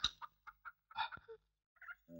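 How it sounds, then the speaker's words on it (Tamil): A chicken clucks in a Tamil film scene, giving a series of short, separate bursts of clucking with brief silences between them and no talk over it. "இந்த கோழியா?"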